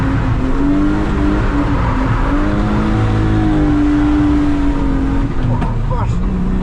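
A BMW E36 drift car's engine revs hard and close at a drift day, a loud, sustained rasping roar with rising and falling pitch that continues throughout and briefly climbs near the end.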